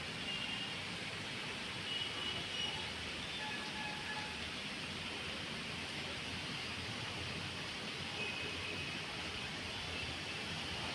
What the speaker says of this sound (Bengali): বৃষ্টির আওয়াজ পাচ্ছ, চুপ করে শোনো